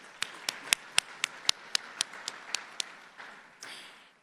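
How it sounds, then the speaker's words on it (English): A round of applause for the Everyday Champions at an MLK breakfast, heard as a sparse run of about a dozen distinct, evenly spaced claps, crisp and fairly near, thinning into softer scattered clapping at the end. "Let's give them another round of applause."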